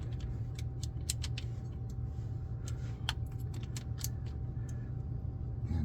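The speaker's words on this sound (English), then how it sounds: "I'm only grabbing the top of the wrench and giving it a little turn." A wrench turned by hand during a drive unit oil change, giving a series of small clicking, creaking ratchet-like snaps over a constant low mechanical hum, close and moderately loud.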